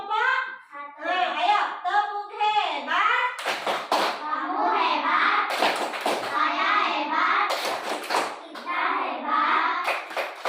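Children in a classroom clap a rhythmic patterned group cheer in bursts, loud sharp claps alternating with young voices chanting and talking between them.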